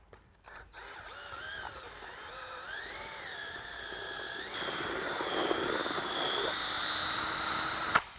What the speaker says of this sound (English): We recommend you mixing it with a drill.